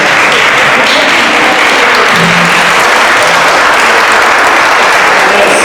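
Loud, dense audience applause for volunteers at a literacy council appreciation assembly, a continuous roar of clapping from a large crowd that holds steady throughout.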